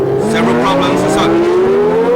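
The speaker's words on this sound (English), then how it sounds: "And the Ligier, look at the speed of that Matra engine, going past Jean-Pierre Jarier." A Ligier race car with a Matra engine screams past at the 1976 US Grand Prix West, a loud high-pitched engine note rising steadily under a commentator's voice.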